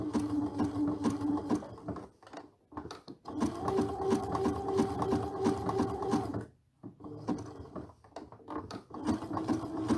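A sewing machine stitches a dimensional applique with a steady, fast mechanical whir, pausing briefly twice and then resuming at close range with no voices.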